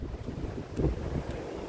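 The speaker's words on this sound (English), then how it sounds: "The wind's really starting to pick up here." Outdoor wind on a spring day buffeting the microphone, a continuous rumbling rush with a brief stronger gust, close and moderately loud with no speech.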